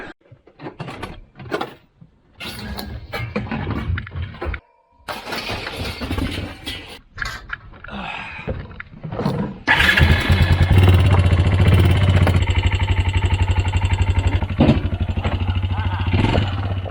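A Kawasaki Bayou 220 ATV, a barn-find machine, sputters through several start attempts with scattered noises and a voice, then catches and settles into a loud, steady, close idle for the last several seconds.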